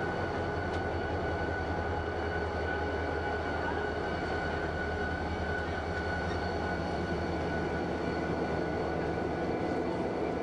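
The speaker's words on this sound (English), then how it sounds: "Here, we inch past this maintenance train." Train creeping slowly past a parked maintenance train on an Alaska railroad, with a continuous low rumble and a steady mechanical drone throughout, no talk.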